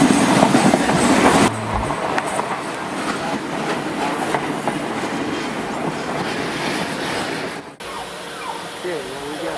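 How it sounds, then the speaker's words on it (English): The original banana train in Panama, which once hauled bananas to the port, rolls along with loud, steady clickety-clack of rail cars, a rumbling rhythm and brief shifts in tone as the carriage moves. "On the original banana train that brought bananas to the port."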